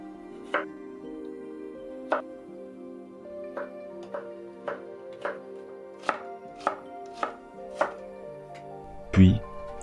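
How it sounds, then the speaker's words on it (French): A knife chops a carrot into julienne on a cutting board, about a dozen crisp, evenly spaced strikes in a steady rhythm, close and clear, ending with one heavier thump. "Commençons par la carotte que nous allons couper en julienne."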